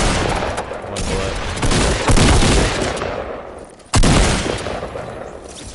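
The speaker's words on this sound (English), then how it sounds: "There's more shooting down here in the valley." Sustained video-game gunfire rattles on in dense overlapping volleys, punctuated by a sudden loud crack near the end, with continuous battle noise filling the background.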